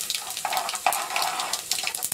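Cumin seeds dropped into hot oil with browning garlic, Meerut-style potato and fenugreek dish: a soft, close sizzle and crackle with light stirring, quiet and steady, with no talk.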